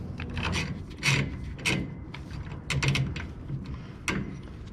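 A hub nut is worked back onto a truck's rear hub with a tool, giving close, uneven metallic ratcheting and grinding bursts separated by brief pauses.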